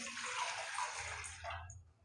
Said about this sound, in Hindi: कढ़ाई में हम 2 गिलास पानी डाल देंगे।